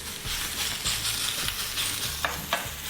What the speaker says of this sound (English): So we put on that oil, we can tell that it starts to get kind of watery. So we know that that's pretty much ready to go. We're gonna put our steak on.